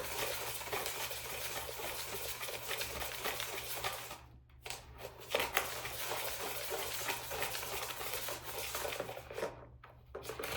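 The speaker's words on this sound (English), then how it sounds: "Now we just gonna mix it, mix it, mix it. Mix this real good." Honey lip scrub mixture is stirred by hand, a steady scraping and rubbing of the utensil against the container with brief pauses, close and continuous.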